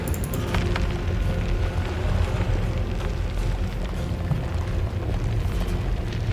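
The Rumbling Earth spell in Baldur's Gate 3 gives a dense, continuous low rumble that holds steady and loud for several seconds.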